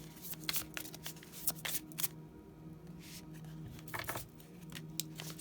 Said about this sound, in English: big cards are so hard to shuffle.